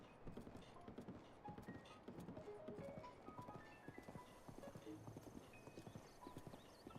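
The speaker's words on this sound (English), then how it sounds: "You have to admit, I'm on a pretty horse right now." Galloping horse in Zelda: Breath of the Wild video game, a rapid continuous clatter of hoofbeats with occasional whinnies and scattered soft game chimes, steady and close.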